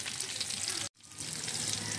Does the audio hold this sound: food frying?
yes